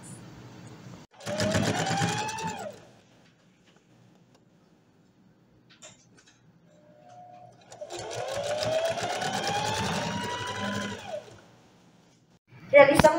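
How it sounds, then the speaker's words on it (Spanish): A sewing machine hems the sleeves and bottom edge of a blouse in two close, steady runs of stitching separated by a quiet pause. "Realizamos la costura de ruedo tanto de las mangas como de la parte inferior de la franelita."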